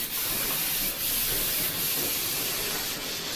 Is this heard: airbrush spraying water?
yes